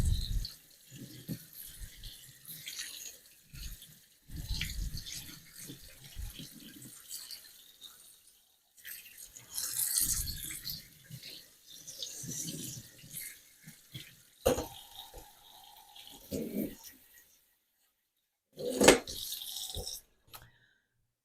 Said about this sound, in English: I'm just trying to rinse it with some cold water to cool it off.